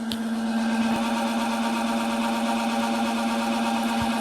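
A DC shunt motor runs steadily on a laboratory test bench, producing a loud constant electric hum with a whining tone, unchanging throughout and with no voices.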